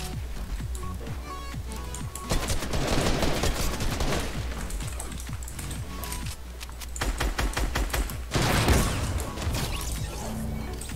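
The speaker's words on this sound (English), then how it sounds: "Oh, this shotgun's literally alpha." Fortnite gunplay: rapid bursts of sharp shotgun and gunfire blasts crackle over a steady low game drone, busy and dense in places, with heavier impacts around the middle and near the end.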